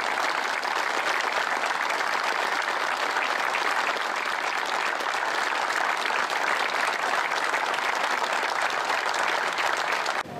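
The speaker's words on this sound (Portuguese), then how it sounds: "uma salva de palmas para a direção do Clube Praça da Armada" Sustained, even applause from a large audience at a national gathering of sailors and former sailors, a dense continuous roar of clapping holding steady throughout before cutting off abruptly.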